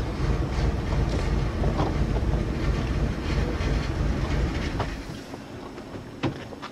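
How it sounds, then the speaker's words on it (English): A steady, loud engine drone runs throughout with rumbling low noise and wind buffeting, a few sharp knocks near the end, no voices. "Chelsea, ask Daddy to turn the engine off."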